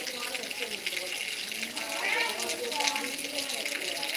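Light rain falls steadily on hillside trees in Khambha taluka, a soft, even hiss that barely changes, with a voice faintly present beneath it.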